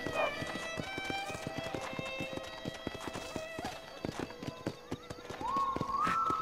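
Horse hooves clip-clop in a steady, quick rhythm in Red Dead Redemption, with a neigh near the start and another whinny toward the end, close and fairly loud under light background ambience.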